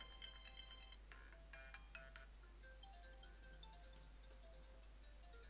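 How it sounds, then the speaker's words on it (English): Short iOS 7 iPhone ringtones and text tones playing one after another, bright electronic chimes and marimba-like melodic notes in quick rhythmic patterns, clear and close with no talking. "there's just some new additions on the ringtones and text tones"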